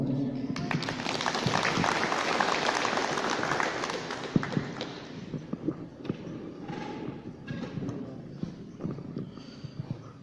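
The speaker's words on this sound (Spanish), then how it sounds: "lo recibamos con fuertes aplausos" Audience at a municipal housing event in Ndoyocoyo, Tlaxiaco, Oaxaca gives strong applause, a dense wash of clapping that fades into scattered claps and crowd murmur.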